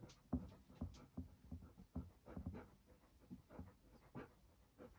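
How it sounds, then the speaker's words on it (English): A dog pants quickly and heavily nearby in quiet, rhythmic bursts of breath, with a faint whimpering note, no talking. "my dog making heavy breathing noise in the background"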